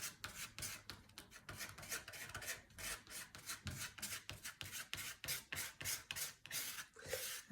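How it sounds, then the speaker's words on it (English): A palette knife scrapes and drags through thick paint in quick repeated raspy strokes, a close, quiet, rhythmic scratching that runs steadily with no talk. "As I'm using the palette knife, I can go thick, and then I can even scrape into this, making some lines."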